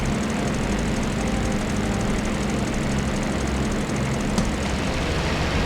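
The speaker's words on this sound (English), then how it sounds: "Oh, my engine's back!" Aircraft engine restarting in the flight sim IL-2 Battle of Stalingrad, a loud steady droning piston engine hum that runs continuously, close and unbroken throughout.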